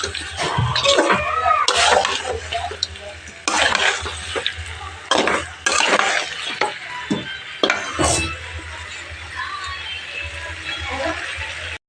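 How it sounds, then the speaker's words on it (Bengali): Mutton frying with spices in a pan, vigorously stirred, giving bursts of scraping and sizzling over a steady hiss, with a person talking throughout. "দেখো সব মশলা টশলা দিয়ে একদম কষিয়ে নিচ্ছি ভালো করে"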